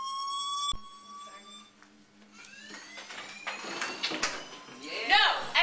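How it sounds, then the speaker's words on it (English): A school fire alarm sounds in a classroom or bathroom during a senior skit, a sustained tonal ringing that starts clearly, then is swamped by rising chatter, shouting and crowd noise as people talk over it. "there was a fire alarm"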